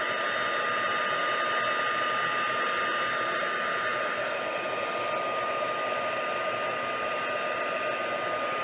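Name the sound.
heat tool melting clear embossing powder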